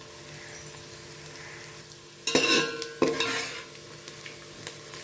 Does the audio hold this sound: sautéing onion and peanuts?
yes